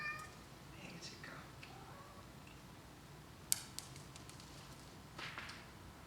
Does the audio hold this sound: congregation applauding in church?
no